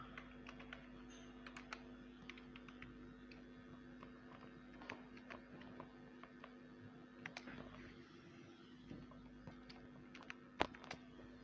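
A username and password are typed on a computer keyboard in quick, irregular bursts of faint key clicks over a low steady background hum, with no talking.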